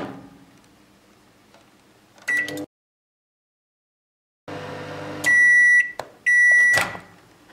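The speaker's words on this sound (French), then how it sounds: "vous allez direction le micro-ondes" A microwave oven hums steadily, falls silent for a moment, then runs again before giving several loud, close electronic beeps near the end.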